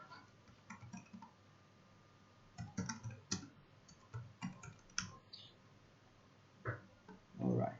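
Typing a command on a computer keyboard at a desk, quiet close key clicks in short irregular bursts with pauses, and one firmer clack near the end.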